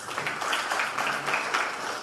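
A press conference audience in Freetown gives a round of applause, a continuous, moderately loud wash of many hands clapping with no speech on top.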